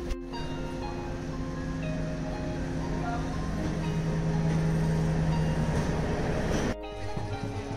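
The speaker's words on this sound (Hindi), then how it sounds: "और ये इस तरह से गुरदासपुर तक हमारी ट्रेन पहुंच गई" A train pulls into Gurdaspur junction in Punjab on the run from Pathankot, a steady loud rumble with a sustained tonal hum that holds and then cuts off abruptly near the end.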